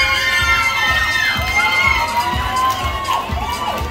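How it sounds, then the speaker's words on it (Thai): An outdoor Loy Krathong festival crowd in Singapore, during a Nang Noppamas pageant, cheers and shouts loudly for a contestant, a dense continuous roar of many voices with high excited shrieks and rhythmic clapping. "ช่วยเชียร์น้องหมายเลขสองค่ะ"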